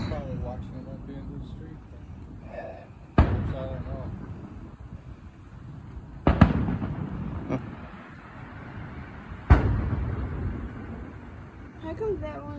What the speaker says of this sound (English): Lots of little explosions this far away, so they weren't very long.